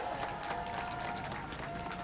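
A crowd at an outdoor political rally applauds in support of highway tollgate workers, a steady, moderately distant patter of many hands with a faint murmur of voices mixed in.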